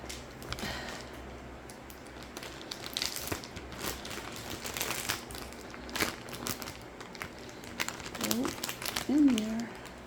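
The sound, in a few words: crinkling plastic vacuum storage bag being zipped up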